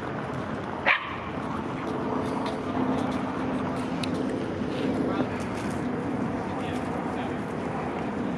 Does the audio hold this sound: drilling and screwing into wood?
no